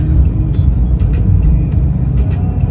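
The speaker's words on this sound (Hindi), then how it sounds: "बाकी भाई यहाँ पर हमेशा जाम लगा रहता है" A traffic jam on a wide three-lane road: steady, loud engine rumble from many idling and creeping cars, buses and trucks, with brief hiss bursts like air brakes, close by and continuous, with no voices.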